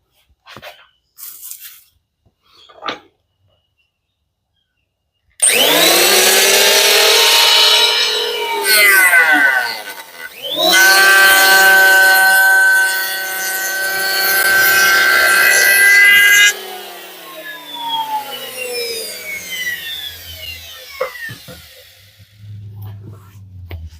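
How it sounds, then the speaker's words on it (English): A power planer cuts wood on a garage pergola build, giving two long, loud, whining passes close by, separated by a brief pause. The tone fades as the blade spins down, and a few short knocks come before. "Always a good idea to control your planer right towards the end of the cut"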